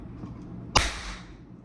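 A toy popper goes off once with a sudden loud crack and a short hissing decay, close by and sharp, after a quiet room.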